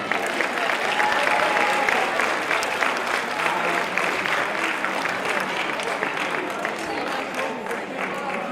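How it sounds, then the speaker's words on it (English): Students at a freshman class meeting clap together in a loud, dense round of applause that gradually tapers off over several seconds. "So give them all a big round of applause real quick."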